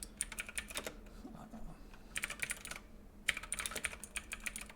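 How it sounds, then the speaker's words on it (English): Fast typing on a clicky mechanical computer keyboard, close and crisp, with bursts of rapid key clicks broken by short pauses, quiet voice faintly underneath. "It's a mechanical keyboard"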